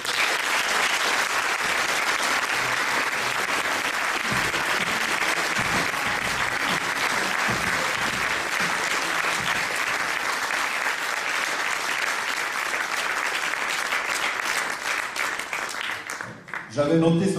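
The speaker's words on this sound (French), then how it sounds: "Accueillons chaleureusement, et avec vos applaudissements," Audience at a local campaign event in Auriol applauds to welcome candidate Véronique Micheli, a long, dense, steady burst of clapping that holds loud throughout and breaks off near the end, with some voices mixed in.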